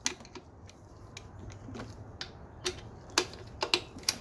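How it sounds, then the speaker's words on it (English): A 12mm socket wrench loosens the alternator tensioner on a Subaru WRX STI, giving a series of sharp ratchet clicks at an uneven pace over a low background hum, close and fairly quiet. "Next we want to use a 12mm socket"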